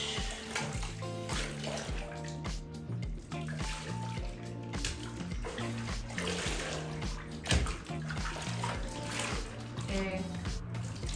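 A wig is being washed in a basin of water with TRESemme CoWash. Water sloshes, splashes and trickles continuously as hair is squeezed and moved through it, close and fairly busy.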